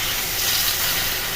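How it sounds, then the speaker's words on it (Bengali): Water is poured into a hot pan of frying onions, tomatoes and spices, giving a close, loud hiss and sizzle with a rushing splash across a short burst. "এই জল ঢেলে দিলাম।"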